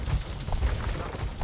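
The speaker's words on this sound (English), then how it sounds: "The cannons can advance and destroy this goddamn cannon tower." Cannons firing on a cannon tower during a siege of Paris in Age of Empires 2 HD Edition, a dense run of low booming impacts and rumbles layered close together, with no talk.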